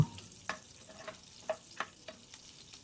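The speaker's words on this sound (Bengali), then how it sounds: "এবার ওই তেলে একটা শুকনো লঙ্কা, একটা তেজপাতা ও কালো জিরে ফোড়ন দেব।" Dried chili, a bay leaf and black cumin hit hot oil as a tempering, crackling in short sharp pops over a soft sizzle, fairly quiet and close.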